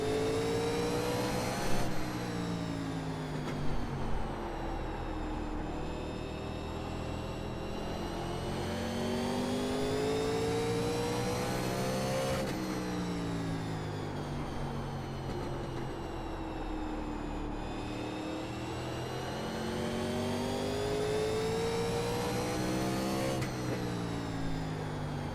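Engines of 1987 NASCAR race cars in the iRacing game rev through repeated gear changes as the pack accelerates at the green flag, loud and near, with no talk.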